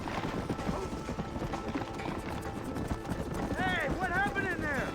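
Horses gallop with steady clip-clop hoofbeats in a Red Dead western video game, amid busy background noise, with a horse whinny or call rising near the end.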